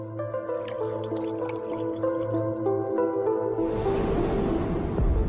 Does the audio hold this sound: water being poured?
yes